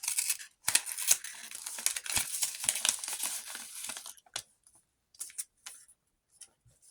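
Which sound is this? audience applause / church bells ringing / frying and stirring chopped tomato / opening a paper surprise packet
opening a paper surprise packet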